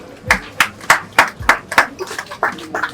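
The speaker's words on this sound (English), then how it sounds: "Clap for yourself." A group of children clapping for themselves at a maritime studies event, a run of about ten sharp, fairly loud claps at a quick, slightly uneven pace, close by, fading into lighter scattered claps near the end.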